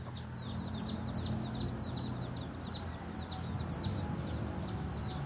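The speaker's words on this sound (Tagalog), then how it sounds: "May mga sisiw dyan. Kakapisa lang ng" Newly hatched chicks peeping in a rapid, continuous chorus of high chirps over a low background hum, close and fairly quiet.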